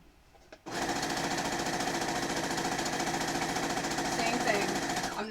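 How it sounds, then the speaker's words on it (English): A sewing machine runs steadily at speed for about five seconds, stitching quilt strips together for baby quilts, with a fast, even mechanical whir that starts abruptly and stops at the end. "going to sew all these together"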